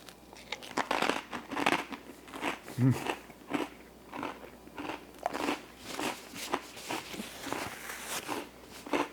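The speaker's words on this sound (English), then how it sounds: "The crispy apple adds a nice contrast with a bit of tartness and crunch" Repeated crisp bites and crunchy chewing of a Dutch chicken curry salad with mayo and apple on a small toast, close and loud, in irregular bursts throughout with no talking.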